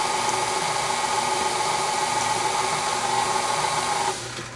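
Electric mixer whirs steadily and loudly as it beats thick pumpkin chocolate chip cake batter, a continuous motor drone that drops in pitch near the end, with no talking.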